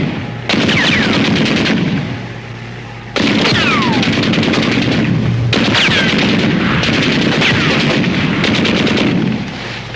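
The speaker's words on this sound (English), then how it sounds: "The enemy's firing on us! I can't hear you. Machine guns!" Continuous machine gun fire and artillery bursts in a war film battle scene, loud and sustained across the whole stretch, with two brief pauses where the firing drops away and then resumes at full intensity.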